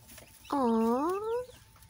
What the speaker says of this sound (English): baby chickens.